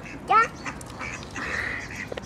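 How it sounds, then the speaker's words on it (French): A single sharp duck quack sounds nearby, followed by softer bird calls and rustling, with a voice talking faintly in the background. "C'est les canards."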